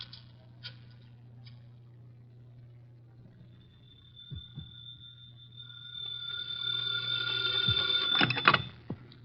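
Telephone ringing at a public phone booth in a hotel setting, a faint steady ring tone rising to a louder series of rings near the end.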